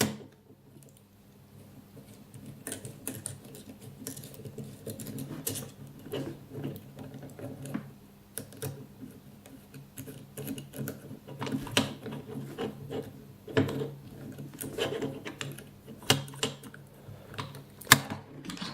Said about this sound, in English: I'm screwing these into the holes there.